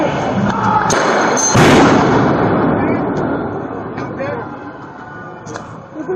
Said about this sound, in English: What exploded in front of me?